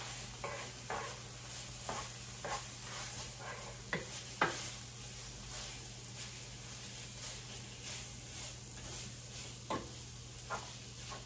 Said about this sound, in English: You can hear it sizzle a little.